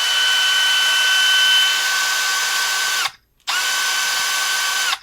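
Milwaukee M12 FUEL 12-volt brushless cordless 4-in-1 installation drill running steadily on its lower speed setting, a loud close whine that cuts off briefly and then spins up again.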